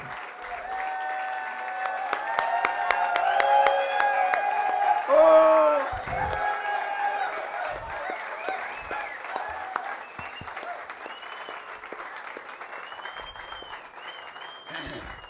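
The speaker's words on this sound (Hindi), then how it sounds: "जोरदार तालियों से मैं स्वागत करूंगा सीएमडी सर, समीर सर" Loud applause greets speakers walking onto a stage at an event: a thick burst of clapping with a voice talking over it, swelling at first and then gradually thinning out.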